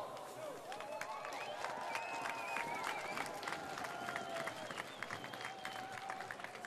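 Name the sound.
spectators applauding as harness racing horses approach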